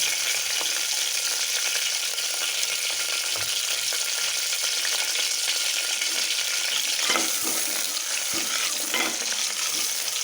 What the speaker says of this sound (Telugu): ఇప్పుడు వచ్చేసి చెక్క లవంగాలు వేస్తున్నాం సార్